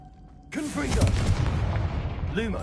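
A Confringo blasting spell from the Hogwarts video game bursts in suddenly as one broad loud boom with a rumbling tail, over game music and a voice talking.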